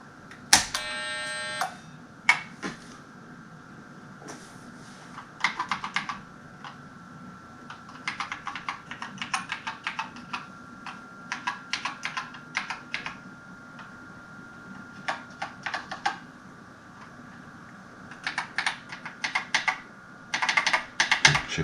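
Keystrokes clatter on a restored BBC Master 8-bit microcomputer keyboard, with irregular bursts of close, crisp clicks separated by short pauses, and a steady faint hum underneath throughout.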